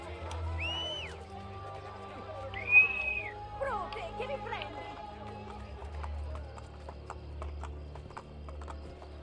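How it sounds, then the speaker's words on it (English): Horse hooves clip-clop steadily in Assassin's Creed Brotherhood, a running rhythm under game ambience, bird calls and background voices. "Hey, a horse."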